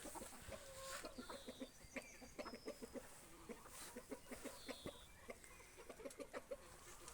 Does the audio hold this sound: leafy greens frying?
no